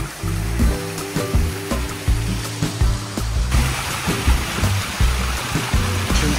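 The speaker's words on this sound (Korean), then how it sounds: "작은 폭포가 있고요." A small waterfall in a cliffside cactus garden at Èze village near Nice fills the scene with a steady, dense rush of falling water, close and continuous, with no voices.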